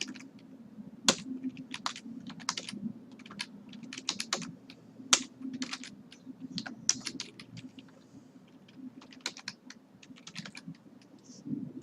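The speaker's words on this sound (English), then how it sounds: "For server address, obviously you can see here, we're going to type that in exactly how it looks." Typing on a computer keyboard to enter a Minecraft Pixelmon server address: a close, steady run of sharp key clicks with uneven rhythm and brief pauses, alone with no talk.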